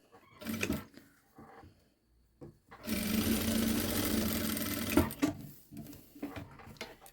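A sewing machine stitches a boy's children's outfit in one sustained close run of buzzing stitching, framed before and after by fabric handling and small clicks.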